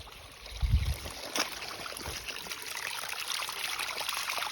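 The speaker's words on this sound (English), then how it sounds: "the water that's coming out of the spring that we developed is coming out of this pipe, obviously, and you can see it's running really well there too." Spring water from a developed natural spring at an off-grid cabin runs steadily out of a pipe, a continuous close trickling and splashing flow with a brief louder gurgle near the start.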